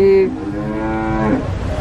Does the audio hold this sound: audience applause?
no